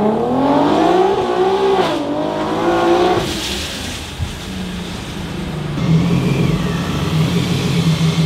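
Supercharged Infiniti Q50 3.7L V6 on a dyno, revving loud and close with rising and falling pitch sweeps through the first few seconds, then a lower sustained drone with a shift near the middle.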